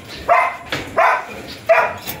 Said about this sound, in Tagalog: Ingay talaga ng aso namin.